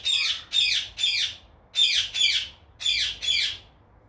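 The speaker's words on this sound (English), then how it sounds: "I'm just trying to wait for the birds to stop chirping." Outdoor birds give sharp, bright squawking chirps in paired bursts, seven calls in about four seconds, loud and close with no talk over them.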